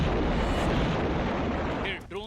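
Artillery cannon fire in the Russia-Ukraine war, a loud sustained roaring blast that fills the clip and fades near the end, followed by a brief whistling, rushing tail.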